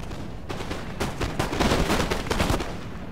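Musket volleys from Empire: Total War, a dense crackle of many distant shots overlapping in rolling waves across a battlefield, continuous for a few seconds with no talk.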